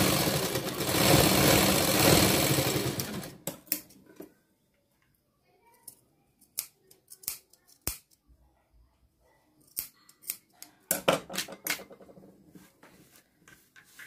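A sewing machine stitches a seam on a princess-cut blouse, running steadily for about three seconds before stopping, followed by scattered sharp clicks and a few short bursts of stitching.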